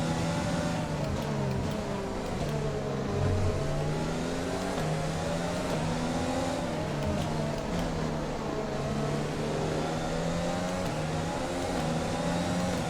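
A Formula 1 car engine in F1 2020 at Zandvoort, running under high wear, holds a continuous high-pitched whine that rises and falls with gear changes and throttle, loud and steady throughout.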